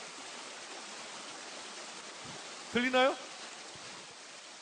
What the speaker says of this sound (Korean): 네, 이런 물소리, 많은 물소리,